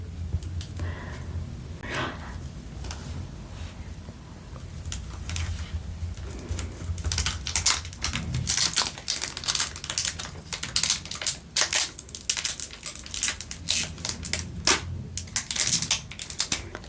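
Foil wrapper of a Pokémon Évolution Prismatique booster pack being worked open by fingernails, a run of close crinkling, crushing and tearing bursts that grows denser and louder toward the end, with no talking.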